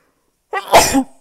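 One short, forceful sneeze, close and clear, with a quick intake leading into the burst and no other sound around it.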